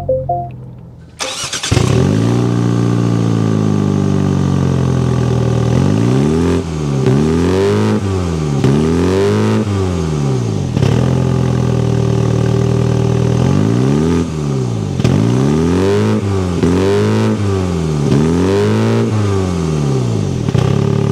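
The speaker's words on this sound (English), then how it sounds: "Let's go inside, start up so you can hear that exhaust note." A 2024 Mini Cooper John Cooper Works with over 220 horsepower starts up after a brief quiet moment, then its exhaust barks through several rising and falling revs, loud and close, with no talking.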